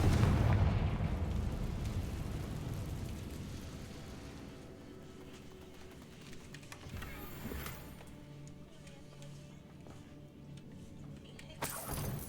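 A Confringo fire spell explodes in the Hogwarts Legacy video game with a heavy booming blast at the start, and its low rumble fades slowly across several seconds.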